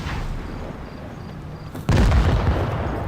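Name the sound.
tank cannon fire from the video game World of Tanks Blitz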